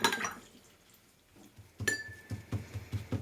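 A finger is dipped into a glass jar of water during watercolour painting, giving a faint glassy clink and soft splashy taps, followed by several quiet irregular knocks and dabs.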